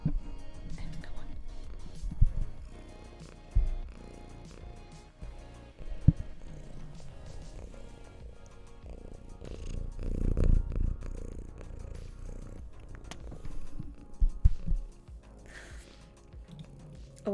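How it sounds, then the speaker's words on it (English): A pet cat purring close by, a soft low steady rumble running through the whole stretch, broken by occasional louder bumps and rustles of handling. "I wonder if you can actually hear her purr."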